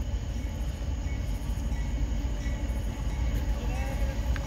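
A southbound CSX mixed manifest freight train led by locomotive 7010 rumbles past steadily on track one, a continuous close, loud rolling roar of wheels and cars with no break.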